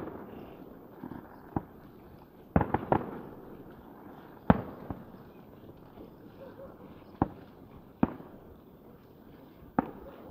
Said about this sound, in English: Quarter fireworks.